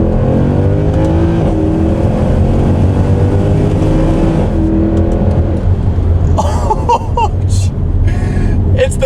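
A 2014 Mercedes C63 AMG 507 Edition (W204) with a naturally aspirated 6.3-litre V8 roars loudly and close from inside the car, building over several seconds under a faint layer of talk.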